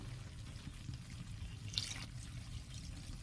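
A little water is poured into a pan of chicken do pyaza cooking in Bengali style, giving a soft, brief splash and trickle over a low steady background hum, with no talking.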